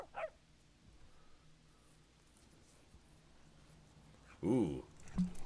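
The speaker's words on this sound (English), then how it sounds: "His dog was upset because he dropped the leash." A dog upset after its leash was dropped gives a short whimpering yip, then later two louder barks close by, separated by quiet room noise in between.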